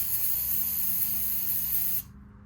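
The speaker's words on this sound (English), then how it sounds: "I'm going to spray inside this lid a little bit that it'll pool in there" Aerosol carburetor cleaner sprayed into a lid while servicing the carb of a 1993 Harley-Davidson Softail: a steady, loud, close hiss lasting about two seconds, then cutting off abruptly, leaving a low background hum.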